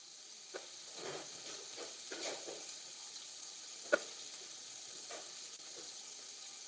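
Two strips of bacon frying in a pan: a quiet, steady sizzle and hiss with soft scraping and small crackles, and one sharp pop partway through.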